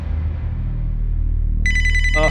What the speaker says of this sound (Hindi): एक फोन आ रहा है